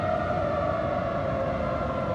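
Tornado warning siren sounding over Chicago, a steady sustained wail holding a constant pitch, loud and unbroken with no voices.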